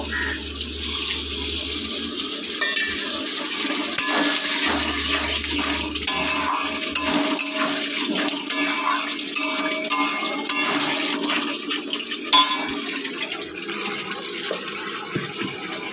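Water poured into a cooking pan, a steady splashing pour with running-water hiss that continues for several seconds, close and moderately loud.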